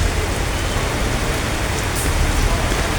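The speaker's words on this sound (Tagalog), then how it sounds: "Kusog kayong ulan." Heavy rain pours down during flooding in a constant loud hiss, a dense unbroken roar of drops with no voices on top.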